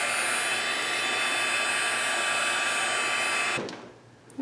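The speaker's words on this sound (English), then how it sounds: "I'm just going to dry it for a moment. I have my heat gun here," A heat gun roars steadily as it dries mixed media artwork made with foil papers, a loud constant blowing whine that cuts off abruptly near the end.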